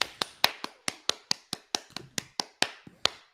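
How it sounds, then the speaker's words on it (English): About fourteen single claps or taps ring out one after another at an even, brisk pace, crisp and close with short decays and nothing else between them. "Everybody clap your hands."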